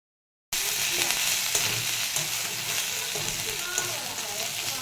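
Mixed vegetables fry together in a small amount of oil, a steady close sizzle with light stirring and scraping throughout, starting abruptly after a brief silence and staying loud without any talk.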